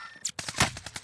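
A quick rattling burst of AK rifle fire in a shooter game, several sharp, closely spaced shots at close range over about a second, loud and dry.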